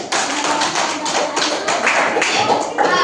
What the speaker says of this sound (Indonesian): beri aplaus dulu buat kelompok 1